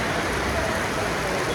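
Heavy rain pours down steadily in Hassan, a dense, continuous hiss of water hitting surfaces, loud and uniform with no pauses.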